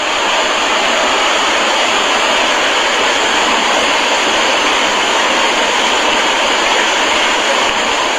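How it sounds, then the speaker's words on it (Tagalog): Rushing floodwater pouring through Banaue, Ifugao, a loud, unbroken roar of churning white water, close and steady throughout with no voices. "Sa pool sa video ang pagragasa ng tubig, baha at puti."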